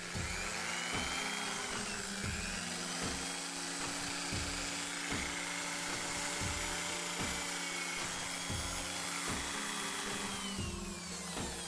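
A power drill whines steadily and close up, with rhythmic pulsing as it bores holes through material for a plasma rifle prop build, and no talking.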